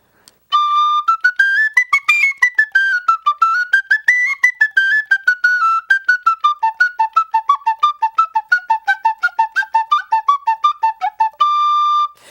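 A penny whistle plays a lively melody alone, with bright, breathy tones, sustained notes at first, then quick detached runs, ending on a long held note.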